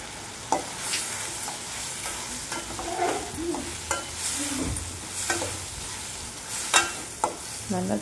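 Tomatoes with coarse rock salt are stirred in a hot pan, a steady frying sizzle broken by scraping sweeps and scattered knocks of the spoon against the metal, close and fairly loud throughout.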